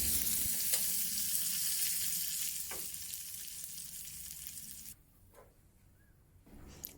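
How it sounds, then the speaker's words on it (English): Chopped green scallions sizzle and crackle loudly in hot oil, the frying fading to a quieter hiss partway through. "Then add the green section of the chopped scallion and let it sizzle."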